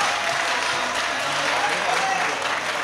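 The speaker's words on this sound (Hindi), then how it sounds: "जरा तालियां बजाकर उनका हौसला बढ़ाए" Audience at a poetry mushaira in Malegaon claps steadily in a dense, even wash of applause, with murmured voices and faint speech just beneath.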